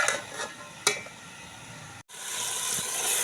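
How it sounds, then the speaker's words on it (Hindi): Cabbage and egg curry simmering in a covered pan over a low flame, giving a steady soft sizzle with a few sharp clinks of the lid or pot early on, then a short break before the sizzle resumes. "हल्की आंच करके इसको तो दम पर थोड़ी देर के लिए पकाते हैं।"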